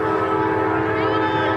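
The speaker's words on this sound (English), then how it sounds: "Oh, this is a freight train." A freight train passes close by, its steady rumbling roar and a sustained horn tone filling the sound without pause.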